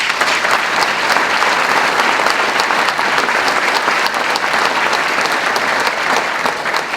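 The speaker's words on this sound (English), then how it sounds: "Let's give them a round of applause." Audience applause at a mayor's State of the City address in Yonkers, a full, loud, continuous roar of many hands clapping that holds steady for the whole stretch with no speech over it.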